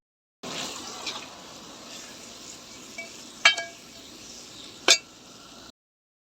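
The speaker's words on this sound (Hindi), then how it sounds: "और अब इनमें छोड़ते हैं सेव।" Sev is added to roasted masala in a cooking pan, a soft steady sizzle broken by a few sharp clinks and scrapes of a utensil against the pan.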